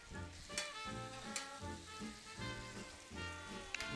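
Fried eggplant being stirred and coated in a thickened, simmering spicy mapo sauce in a pan; a steady soft sizzle and bubbling under faint background tones, with an occasional light clink, no talking.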